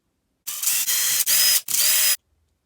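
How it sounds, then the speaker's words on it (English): Small screws being backed out of the differential cover on a Mega Bouncer RC truck during a teardown, four short close-up mechanical bursts in quick succession, each a steady whirring run with a brief gap between. "I'm going to go ahead and take those 4 screws out, and we're going to get to see just what's under that diff cover"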